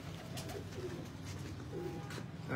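Low, steady cooing from racing pigeons on a rooftop, repeated soft throaty calls close by, with faint background noise and no voices.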